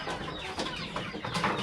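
Chickens cluck close by in a crowded flock, a busy overlapping chatter of short calls.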